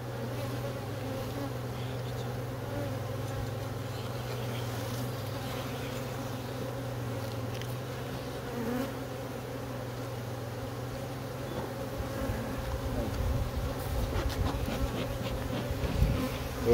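Honeybees swarm around an opened hive during inspection of a colony requeening after swarming, a dense steady buzz filling the scene near and loud, growing busier toward the end.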